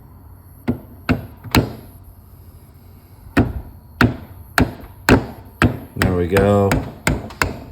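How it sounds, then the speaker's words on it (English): A rubber mallet taps a part onto the shaft of a wine grape destemmer's electric motor in a dozen sharp, close knocks at an uneven pace, with a short spoken comment among them. "I'm gonna hammer on this. I've got a rubber mallet, so I think this will work nicely."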